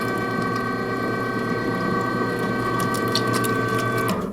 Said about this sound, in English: we're just feeding that meat into the auger from the tray, and it's going through the grinder